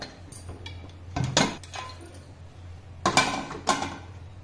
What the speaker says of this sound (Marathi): आपण आता उघडून पाहू कुकर